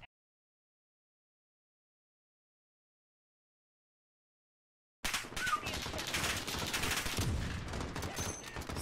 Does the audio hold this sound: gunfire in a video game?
yes